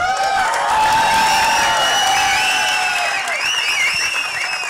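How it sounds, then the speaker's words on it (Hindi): A crowd at a Hindi film trailer launch for Yamla Pagla Deewana 3 bursts into loud applause, cheering and whistles, a continuous roar of clapping with shrill whoops rising over it throughout. "जरा सा ताली बजा के बताओ यार"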